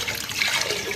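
Water splashing steadily into a cooking pot of lentils with red chilli powder, turmeric, salt and whole spices, a brief continuous pour heard up close.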